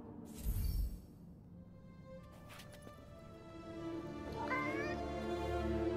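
A cat meows in the video game Forspoken, a rising whiny call near the end over soft ambient game tones, with a brief thump early on and no speech.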